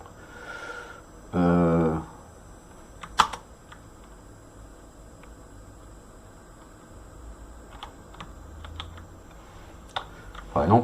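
Computer keyboard keys tapped in sparse, scattered clicks during an Arch Linux desktop setup, close and fairly quiet, with a brief burst of speech early on and a low fan-like hiss underneath.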